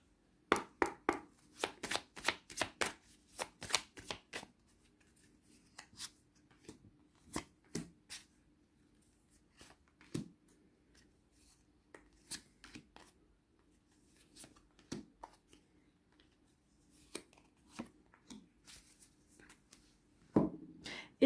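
Oracle cards are shuffled by hand in repeated sharp, papery riffles and taps, rapid at first and then spaced out, close and dry with no voices.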